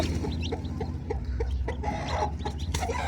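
A Kadaknath hen clucks in short, repeated bursts beside newly hatching chicks, with thin high peeps scattered between the clucks, close by and with no talking.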